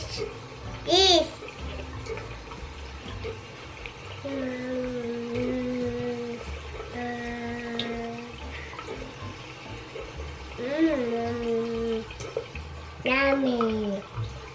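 A baby's hands are washed under running water, the tap splashing in short bursts around high-pitched baby and child vocal sounds and an adult voice talking.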